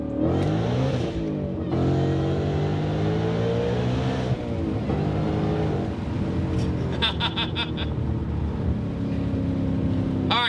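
An 870 hp 2026 Mustang RTR Spec 5 accelerates hard in first gear, its loud, close engine note climbing steeply in pitch, followed by a steady roar and a few sharp clicks, with a voice speaking over it.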